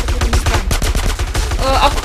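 Rapid gunfire in the video game GTA San Andreas, dense automatic bursts crackling continuously, loud and close, with a brief flurry of higher clatter near the end.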